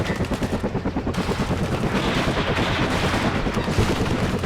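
Rapid automatic gunfire in the video game Warno: loud, dense bursts of shots rattle continuously, with overlapping volleys and no pauses.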